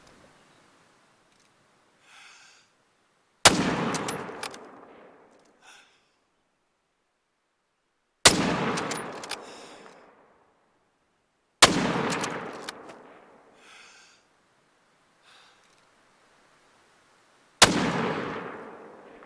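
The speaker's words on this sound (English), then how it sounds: "They have no idea where the sniper fire is coming from." Four loud rifle shots ring out in TheHunter: Call of the Wild, a big-bore nitro rifle used on a water buffalo hunt. Each sharp crack carries a long rolling echo, and the shots are spaced several seconds apart with quiet gaps between.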